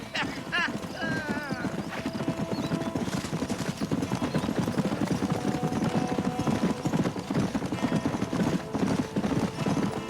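A horse's hooves clip-clop at a steady trot in the western game Red Dead Redemption, with a brief whinny near the start, continuous and fairly close under a soft background score.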